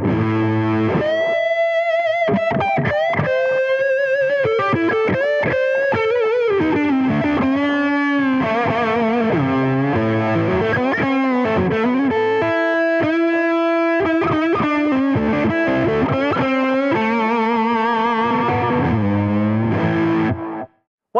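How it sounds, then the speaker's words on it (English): Overdriven electric guitar, a James Trussart Deluxe Steelcaster on its neck pickup, playing a lively riff with bends and quick note runs, warm and full-bodied, loud and continuous with no voices. "Let's hear the neck pickup on its own."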